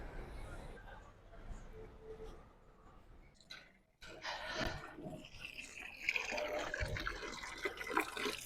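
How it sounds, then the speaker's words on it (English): Ice-cold mountain water runs from a town fountain in Genzano, near Rome, a soft trickle that swells into a louder, steady rushing splash, with voices and outdoor street ambience around it. "ice cold mountain water."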